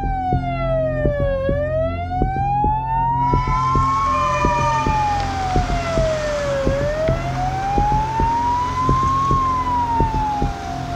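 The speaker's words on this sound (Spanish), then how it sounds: "Lo dejamos todo y vamos tras la ambulancia hacia el lugar de la emergencia." Loud ambulance siren on an emergency call, wailing in long rising and falling sweeps that repeat for the whole stretch, close and dominant over the traffic rumble beneath it.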